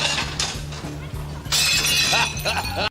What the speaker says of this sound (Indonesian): sengaja memecahkan piring lain sambil terkekeh